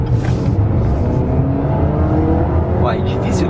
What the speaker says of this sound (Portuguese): eu afundo o pé no acelerador e o carro dispara para frente